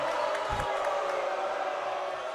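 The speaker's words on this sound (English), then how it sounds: "I can't hear you over this crowd" Loud, steady crowd roar fills a gym during a boys' high school basketball game between Cienega and Buena, a continuous wash of cheering and noise with a brief ball bounce underneath.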